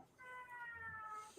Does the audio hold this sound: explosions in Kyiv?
no